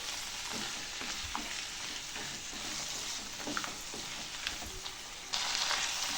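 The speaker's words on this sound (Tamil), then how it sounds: "பாருங்கள் நல்லா வதங்குது" Mint and curry leaves sauté in a pan for a South Indian pudina thuvaiyal chutney, a steady close sizzle with occasional soft stirring knocks, growing briefly louder near the end, with no talking.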